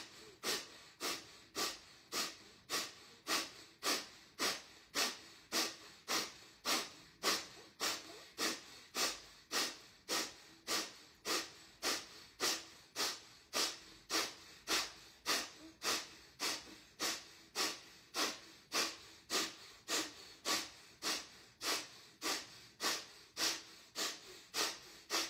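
Kapalabhati yoga breathing, a steady series of forceful, rapid nasal exhalations, around thirty sharp puffs at an even, quick rhythm, close and moderately loud with no talking.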